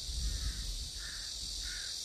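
Crows give a few drawn-out caws outdoors in nature, spaced about half a second apart, fairly faint against a constant high insect drone and low rumble.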